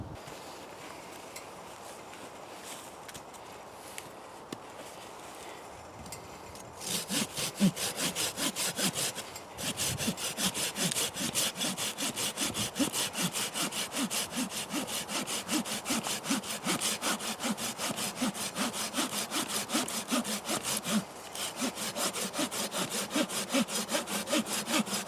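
A Trail Blazer buck saw cuts through wood in steady, rapid back-and-forth strokes. The strokes start up after a few quiet seconds and stay loud and close, with no talking.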